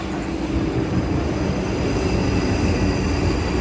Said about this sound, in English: That's the train. It's coming.